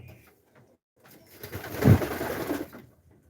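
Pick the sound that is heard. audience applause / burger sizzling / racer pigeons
racer pigeons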